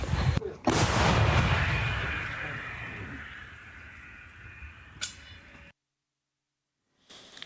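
A single heavy boom from a close 2S3 Akatsiya self-propelled howitzer, its roar rolling out over several seconds, a sharp crack near the end, then silence and another distant report, near Bakhmut.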